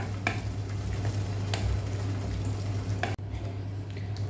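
Steady stirring and scraping of Karaikudi kara chutney mixture in a hot pan with a constant sizzle underneath, a few louder scrapes punctuating the texture, no voices.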